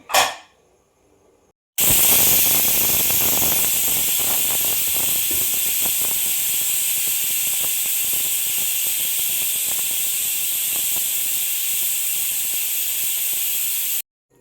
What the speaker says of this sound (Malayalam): അത്രയും വെള്ളം ഒന്ന് ഒഴിച്ച് ഒറ്റ വിസിൽ വരുന്നിടം വരെ നമുക്കൊന്ന് വേവിച്ചെടുക്കാം